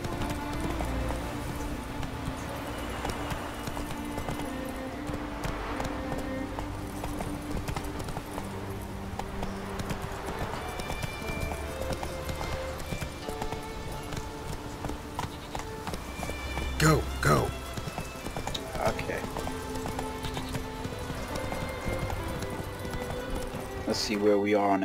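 Horse hooves clip-clop rhythmically on the ground in the video game The Witcher 3, with an occasional whinny, while someone talks over the steady hoofbeats and background music.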